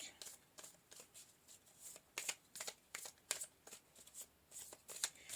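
A deck of tarot cards is shuffled in repeated soft riffling bursts at a steady rhythm, quiet and close.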